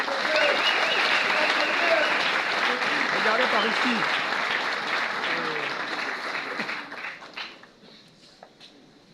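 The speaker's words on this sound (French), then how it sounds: "je vous prie de l'applaudir" Loud crowd applause at a political ceremony in Kinshasa, honouring a deputy prime minister. It fills the room and then thins and fades toward the end, with someone briefly speaking near the close.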